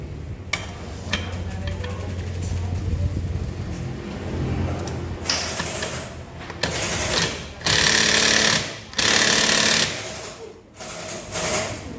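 An impact wrench rattles in repeated loud bursts of a few seconds each while tightening the centrifugal clutch nut on the secondary pulley of a Yamaha X-Ride 125 automatic scooter, with workshop noise between the bursts.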